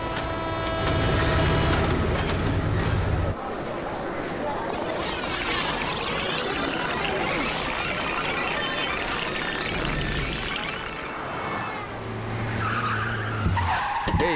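A train pulls into a railway station, its steel wheels squealing loudly and steadily against the rails over a rumbling, clattering background, the noise easing midway before a brief horn-like tone near the end.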